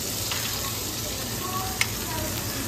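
Butter sizzles and fries in a pan with garlic, rice and oil, a steady close hiss with a faint click of stirring partway through.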